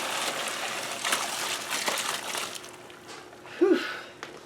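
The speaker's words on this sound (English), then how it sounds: "Ready to strain our noodles." Hot pasta water poured from a pot into a big strainer while draining noodles in a home kitchen, a steady rushing splash that swells briefly near the end.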